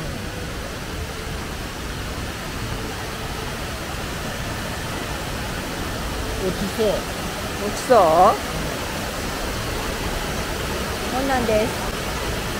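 The Shimofuri waterfall in Nagano pours with a steady, broad hiss of falling water, while people chat briefly over it.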